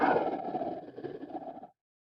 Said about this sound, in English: That's the sound of gorillas